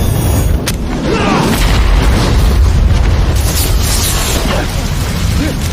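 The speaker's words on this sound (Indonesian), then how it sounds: "tepat sebelum perahu itu meledak" A boat explodes in a loud, sustained roaring blast with crackling bursts and deep rumbling, dense and close throughout.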